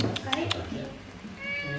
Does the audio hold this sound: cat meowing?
yes